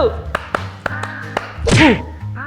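Hand claps from an audience clapping game at a talk, a string of sharp, evenly spaced claps ringing over a low room hum, followed by a speaking voice.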